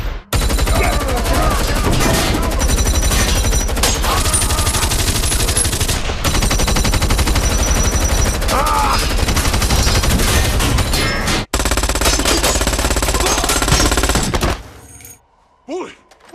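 Heavy, continuous gunfire in an action movie shootout, with dense overlapping automatic bursts, loud and sustained for most of the stretch, briefly cut once, before dropping to quieter scattered sounds at the end.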